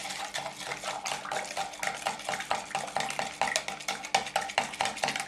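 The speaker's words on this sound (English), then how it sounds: "and stir it a little bit." A spoon stirring salt into water in a container, making a salt solution; steady rapid scraping and clinking strokes against the vessel, close and fairly loud, continuing throughout with no talk.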